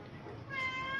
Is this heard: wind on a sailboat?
no